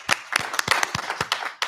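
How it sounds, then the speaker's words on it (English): A handful of people at a township committee meeting clap, with sharp, separate, fairly close hand claps in an uneven rhythm over a couple of seconds. "Another round of applause"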